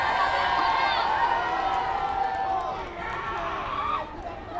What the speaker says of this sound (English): This Rancho crowd getting into it